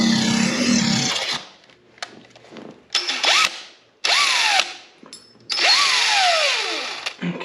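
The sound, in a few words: drilling out slam latch with 13/64 drill bit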